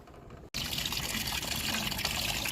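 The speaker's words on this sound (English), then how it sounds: "Disconnect this hose clamp and drain all the coolant out." After a short quiet moment, coolant suddenly gushes from the disconnected lower radiator hose of a 2018 Audi Q3 2.0T, then keeps pouring in a steady, loud splashing stream.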